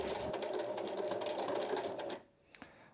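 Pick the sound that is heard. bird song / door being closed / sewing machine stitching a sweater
sewing machine stitching a sweater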